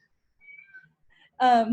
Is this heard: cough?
no